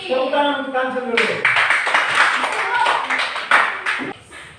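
Brisk applause from a small group of schoolchildren breaks out after a voice trails off, a dense patter of claps continuing for several seconds.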